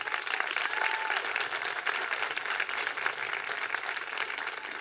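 An audience at a school Mother's Day celebration claps steadily for the kindergarten teachers, a dense, even wash of many hands sustained throughout without a break.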